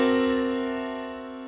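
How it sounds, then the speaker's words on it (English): A dense, complex dominant chord in the style of Scriabin rings out as one sustained harmonic tone, slowly decaying over about a second and a half with no talk. "But a Scriabin dominant might sound like this"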